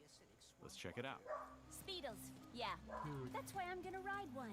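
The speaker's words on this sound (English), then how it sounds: "sorry if you can hear my dog in the background" A pet dog barks and yips in short repeated bursts near a home microphone, while someone talks over it throughout.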